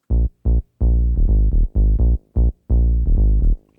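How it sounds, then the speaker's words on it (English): A deep, harmonically rich synth bass plays in short rhythmic stabs, some clipped and some held, loud and dry with no voices. "I kind of started things out with this bass sound right here"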